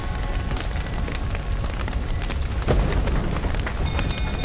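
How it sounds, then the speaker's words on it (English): Steady, dense rainfall in the video game The Witcher 3: Wild Hunt hisses continuously, with a low rumble swelling briefly partway through, like distant thunder. "Looks like rain."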